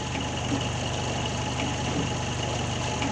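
A car engine idles at about 700 RPM with a steady, low, even rumble and a regular throb, close and constant, with no voices.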